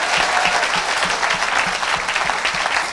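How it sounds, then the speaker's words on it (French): Sustained applause and cheering from a church congregation fills the space, dense and steady throughout, with a rhythmic low thump underneath like music or clapping in time. "Donne une grande acclamation à Jésus de Nazareth."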